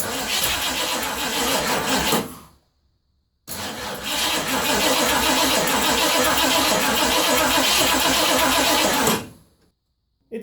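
A Ford F100 truck that sat unused for 29 years cranks and fires, its engine catching and running loudly for about two seconds, cutting out, then restarting and running roughly for several more seconds before dying again.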